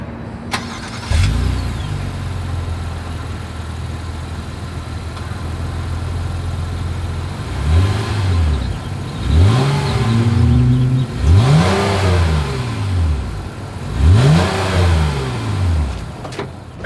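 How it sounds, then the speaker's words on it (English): Dual exhaust of a 2022 Honda Ridgeline, a truck, starting up and settling into a steady idle, then roaring through four or five sharp revs that climb and fall back, loud and close with no talk over it. "As always, here is that exhaust clip."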